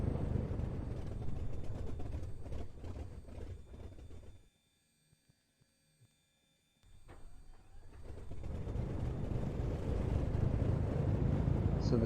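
A simulated piston engine on a Lockheed Constellation airliner rumbles loudly, cuts out to near silence for a couple of seconds, then surges back into a steady low drone.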